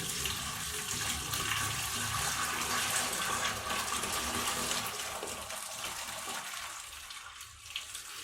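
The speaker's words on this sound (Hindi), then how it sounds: "अब इनमें से फालतू पानी निकाल देते हैं।" Excess cooking water pours off boiled macaroni with peas and carrots in a village kitchen, a steady close splashing rush that gradually thins and quiets toward the end.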